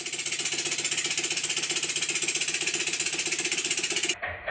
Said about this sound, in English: When I increase the air pressure though, the engine miraculously runs.